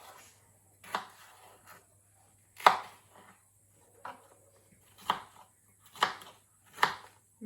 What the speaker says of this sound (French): mettre les poivrons que je vais couper en morceaux de taille plus acceptable